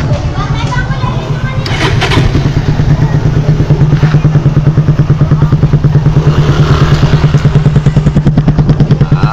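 A Suzuki Raider motorcycle engine idles close and loud after a new battery was fitted, a steady rapid pulsing putter throughout, with people talking over it.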